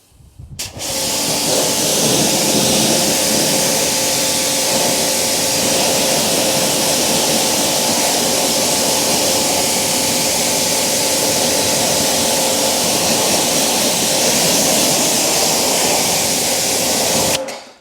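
A strong water spray rinses the wheels of a 2007 Subaru WRX. The hiss is loud, close and unbroken from start to finish, with no talk.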